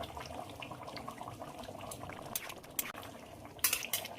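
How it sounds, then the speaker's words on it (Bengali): Ghee is stirred into a simmering jackfruit and prawn curry in a pan. The soft bubbling and sizzling is faint and close, with a few light clinks of a utensil near the end. "আর এবার একটু ঘি দিয়ে দেবো আমি।"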